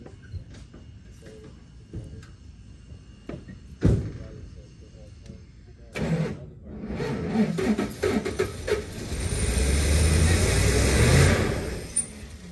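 A 1975 Dodge D200 crew cab truck is push-started, its wheel spinning: scattered clicks and knocks give way to a loud, sustained grinding roar, with people talking nearby.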